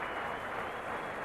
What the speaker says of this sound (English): receiving a nice round of applause from a small crowd